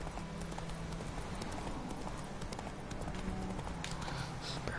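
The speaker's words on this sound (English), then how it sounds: "Si es que es mío, es mi caballo. Está entrenado por mí." Horse hooves galloping in The Witcher 3, a steady rapid clip-clop rhythm that carries on throughout, moderately loud against a constant game background.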